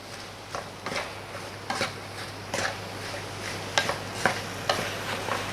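Apples and sugar cook in a pan for an apple galette. A low simmering sizzle runs under repeated spatula stirs and scrapes, close by, with no talking.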